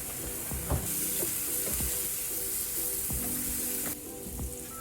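Butter sizzling in a hot pan, a bright steady hiss with a few light knocks of a utensil against the pan, the sizzle dropping slightly near the end.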